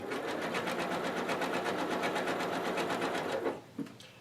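Rapid even chatter of a sewing machine stitching elastic down a sleeve for ruching, loud and close, running steadily before slowing and stopping near the end, with a brief handling sound after.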